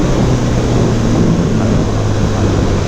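Steady, loud engine drone from a 2018 KTM 1290 Super Duke GT motorcycle running its stock exhaust while riding, a continuous low rumble with wind noise and no voices.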